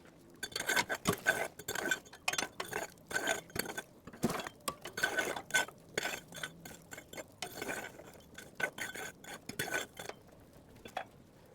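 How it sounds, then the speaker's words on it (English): Glowing grill embers raked and pushed into a ring-shaped corona arrangement, with a busy run of close metallic scrapes, clinks and rattles coming in quick irregular bursts throughout, no talking. "I'm gonna get these embers arranged in a pattern like this, called a corona"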